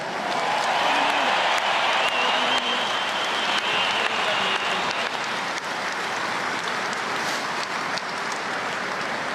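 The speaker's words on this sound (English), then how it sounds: "you guys deserve a massive round of applause" Crowd applause after the All Ireland football final, a sustained wash of clapping and cheering that stays loud and dense throughout, with faint voices mixed in.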